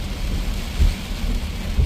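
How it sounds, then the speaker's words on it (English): Heavy thunderstorm rain pours down hard and steady on a road in Gainesville, Georgia, a dense close roar with a few louder low rumbles of thunder rolling through. "See how the fast rain is coming down really hard and hitting."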